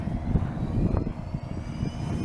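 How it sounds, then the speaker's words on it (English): A large plane at Aurora Municipal Airport produces a steady engine roar with fluctuating rumble, fairly loud and continuous, with no talking over it. "now let's get the big plane"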